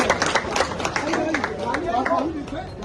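A crowd at a protest gathering claps in a dense, steady patter, mixed with chatter and voices over the top.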